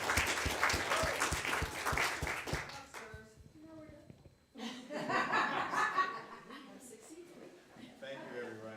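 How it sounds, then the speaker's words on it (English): A church audience claps loudly for a few seconds, with some laughter. A voice speaks in the gap, and then a second, softer round of clapping and chatter follows. "close with another bit of applause for the C committee and for the board"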